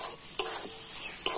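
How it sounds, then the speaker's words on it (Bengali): Semolina stirred steadily in a pan while cooking into a Turkish-style yogurt halwa, a soft scraping sizzle with two sharper clinks of the spoon against the pan. "জল দিয়েও সুজিটা কিন্তু কন্টিনিউ ভাবে নাড়াচাড়া করতে হবে"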